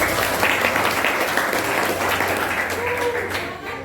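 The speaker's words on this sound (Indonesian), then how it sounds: "Oke, terima kasih kita tepuk tangan." A classroom of students applauds together, a steady dense patter of clapping that fills the whole stretch at close range, with some voices mixed in beneath it.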